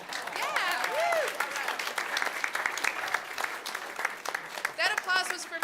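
Applause and cheering break out at a school board meeting as a student is introduced, lively clapping mixed with whoops and overlapping voices from the crowd.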